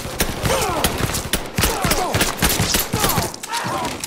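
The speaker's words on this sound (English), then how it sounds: "They were shooting at me with a machine gun and I just went boom, boom, boom, boom, boom with my handgun" Rapid gunfire from a machine gun and a handgun in the Mafia 3 video game, loud close bursts of shots packed tightly together with a few brief pauses, with faint voices mixed in.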